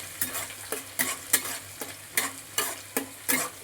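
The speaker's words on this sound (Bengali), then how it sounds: "তেলের মধ্যে পেঁয়াজ কুচিটা দিয়ে দিচ্ছি এইবার আমি এটাকে একটু লাল লাল করে সামান্য একটু লাল লাল করে ভেজে নেব প্রথমে" Chopped onion fried in oil in a home kitchen while preparing a shapla (water lily) curry, with a steady sizzle broken by about ten sharp, regular stirring scrapes close by.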